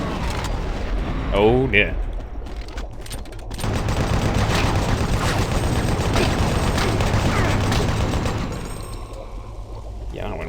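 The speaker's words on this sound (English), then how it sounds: "I'm going to throw a grenade." A grenade explodes in Doom 3 BFG Edition with a loud, broad blast that rumbles and crackles for several seconds before fading. Someone speaks briefly just before it.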